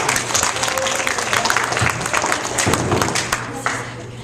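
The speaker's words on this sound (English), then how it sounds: "if we can give a round of applause for Mrs. James" An audience at an outdoor school camp presentation gives Mrs. James a round of applause: dense, steady clapping from many hands fills the whole stretch, with some talking mixed in.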